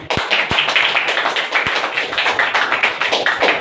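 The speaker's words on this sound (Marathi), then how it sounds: "जोरदार टाळ्या।" Sustained clapping from an audience at a weekly business plan presentation meeting in Akola, India, fills the whole stretch, steady and fairly loud, with a few sharper thumps near the start.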